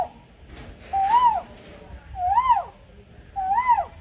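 A human voice imitates a cuckoo perched on a tree branch, giving three separate rising-then-falling whistled calls at an even pace, each clear and fairly loud against a quiet background.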